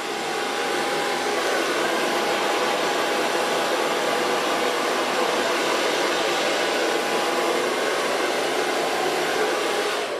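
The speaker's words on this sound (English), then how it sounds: "Now, so far blow drying." A hair dryer blows steadily and loudly at close range while blow drying hair, a constant whooshing airflow that lasts the whole stretch without pause.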